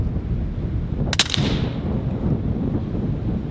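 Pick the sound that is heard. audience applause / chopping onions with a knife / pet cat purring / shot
shot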